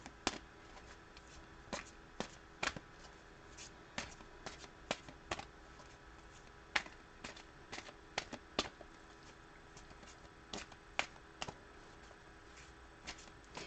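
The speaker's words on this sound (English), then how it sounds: "I'm going to pull two Archangel cards to see what the messages are from the angels" Archangel oracle cards shuffled close up at low volume, making a string of light, irregular clicks and snaps over a faint steady background hiss, with no voice.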